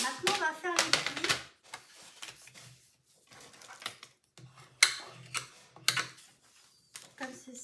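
Card stock is folded and creased by hand for a Stampin' Up craft project, giving short, crisp paper rustles and firm taps, close and intermittent, while someone talks between them.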